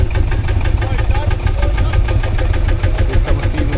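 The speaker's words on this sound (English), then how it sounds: "I just got to pan over to a couple of tractors just arriving" Tractor engines rumble steadily nearby at a steam rally in Worcestershire, a low chugging drone with a knocking pulse, loud and continuous throughout.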